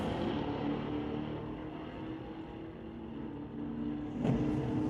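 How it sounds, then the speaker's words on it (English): Old and new Camaros drag racing on a strip, a steady loud engine roar sustained throughout, with a brief rise in intensity near the end as a car passes or revs harder. "So old Camaro versus new Camaro here on the titanium strip."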